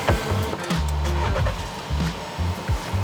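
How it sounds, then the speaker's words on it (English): A car with a dead battery, jump-started from another running car, cranks and catches, then idles with a steady low rumble and a few revs, close by. "I'm gonna start my dead battery"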